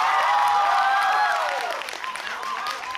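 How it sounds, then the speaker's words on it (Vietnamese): Audience applause at a press event for a game show, a dense wash of clapping from a crowd that fades slightly toward the end, heard under a sustained musical tone with gliding pitches. "dành một tràng vỗ tay thật nồng nhiệt cho tập đầu tiên của game show Lotto I Dare You"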